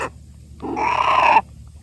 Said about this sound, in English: Well, you're always growling, Pearly.